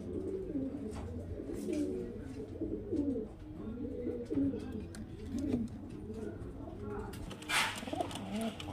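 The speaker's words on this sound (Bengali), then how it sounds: "দুটোই হলুদ চোখের পায়রা দেখতে পাচ্ছেন ফ্রেন্ডস" A pair of yellow-eyed pigeons coo repeatedly in low, rolling phrases close by, with faint chirps and light rustling around them.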